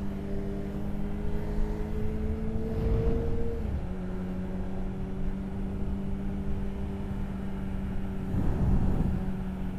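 A Kawasaki ZX25R motorcycle engine drones steadily while riding, its tone stepping down partway through and rising again near the end, under constant wind rumble.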